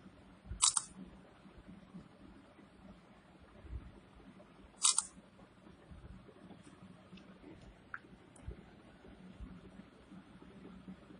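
A Samsung Galaxy J7 Pro phone camera makes two sharp shutter-click sounds a few seconds apart, close and crisp against quiet room noise, with a few faint ticks after.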